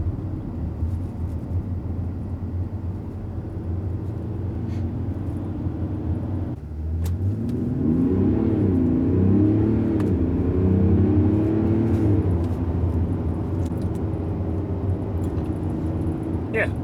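A 2020 Mercedes GLS 400d diesel SUV in sport mode revs and accelerates, a steady low engine drone rising in pitch partway through and holding strong, with faint voice in the cabin.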